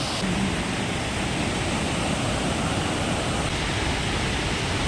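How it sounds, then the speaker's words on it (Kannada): Steady, loud rush of a mountain stream in Bisle Ghat near Sakaleshapura, tumbling over rocks close by, continuous and unbroken with no voices. "ಎಲ್ಲೆಲ್ಲಿಂದ ಜಲ ಬಂದು ಎಲ್ಲೆಲ್ಲಿಂದ ಹೊಳೆ ಆಗುತ್ತೆ"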